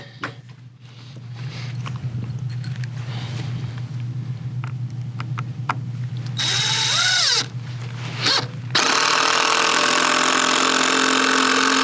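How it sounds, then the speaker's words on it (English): A Porter-Cable power drill countersinks screws into a red oak fireplace mantel, its motor whining steadily up close, then rising in pitch and roaring louder and harsher toward the end. "go ahead and countersink some screws in here now"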